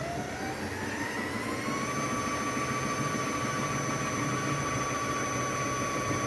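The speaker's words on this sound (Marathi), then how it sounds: "आता ते स्टार्ट करा बटन. सुरू झाली बॉबिन करायची." Embroidery machine winding its bobbin: a continuous, even mechanical whir with a steady whine that rises slightly in pitch as it spins up, heard alone and fairly close throughout.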